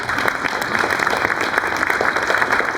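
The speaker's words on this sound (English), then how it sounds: "Could we give Margaret another round of applause?" An audience at a Canadian Polish Congress New Year reception gives a singer named Margaret a steady round of clapping, dense and even for the whole stretch.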